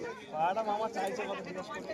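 Soft cooing from a red-bordered female pigeon at a village bird market, low and throaty, heard under a crowd's chatter.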